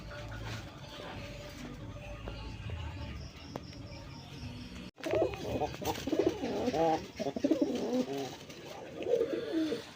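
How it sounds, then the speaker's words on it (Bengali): A pair of local Bombay pigeons, one male and one female, coo in repeated, close, rolling phrases through the second half, after quieter background rustling and faint insect chirps. "বন্ধুরা এখানে একজোড়া দেশীয় দেশীয় বোম্বাই কবুতর"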